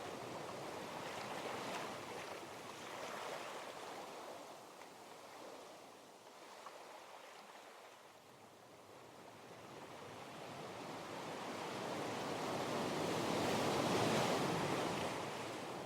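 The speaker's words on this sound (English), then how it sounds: "As you descend, you can hear the sea more clearly," Sea waves rolling in on a shore, a soft continuous surf that swells and recedes in slow, gentle surges, with light wind and no voices.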